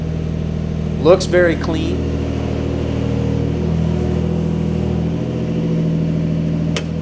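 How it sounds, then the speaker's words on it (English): Steady idle of a Nissan Xterra SUV engine just after starting, a continuous low hum running evenly under a brief spoken comment, with no revving. "We'll hop in and start it up. Starts right up."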